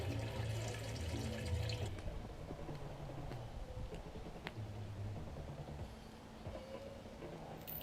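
Water runs and splashes into a Dutch oven at a campfire for several seconds, a continuous gurgling wash of sound with faint background noise, no talking.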